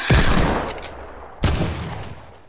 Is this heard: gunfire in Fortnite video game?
yes